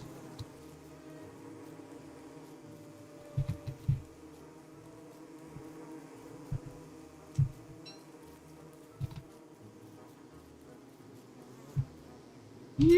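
Bees buzzing around a beehive in Don't Starve Together, a faint continuous drone under soft game ambience, broken by scattered quiet thumps.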